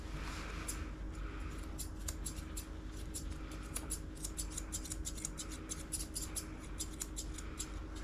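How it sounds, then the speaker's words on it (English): Curved grooming scissors snip steadily through the coat of a Poodle x Shih Tzu cross at close range, with rapid repeated cuts over a constant low background hum. "I do all this with my long curves, but again, you can do it with any scissors really."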